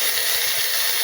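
Mustard seeds and cumin hit very hot oil and give off a loud, close, bright sizzling hiss that fills a brief moment.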